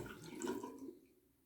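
Tap water runs briefly over a straight razor being rinsed during honing, a soft close splash that fades out within a second or so.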